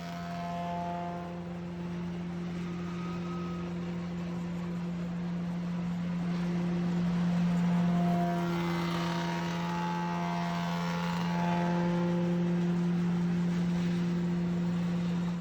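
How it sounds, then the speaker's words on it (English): A chair-seat scooping machine with a cutter head carrying two thick knives, making a single scoop pass across a seat blank: a steady, loud mechanical hum with a rougher, louder cutting surge in the middle. "that cutter head comes up and down, makes that scoop pass, and in one pass, the full scoop profile is done on that seat blank"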